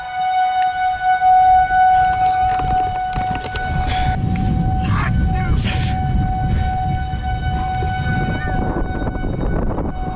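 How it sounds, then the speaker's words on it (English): Tornado warning sirens wail steadily near Charleston, Missouri, a sustained tone holding through the clip under heavy wind and vehicle rumble, with brief voices in the background. "You hear the sirens."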